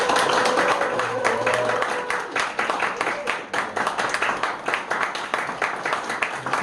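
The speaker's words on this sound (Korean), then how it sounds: "우리 박수로" A church congregation claps in welcome during a Sunday worship service, a dense broadband patter of many hands that loosens into more separate claps toward the end, with a voice speaking over the start.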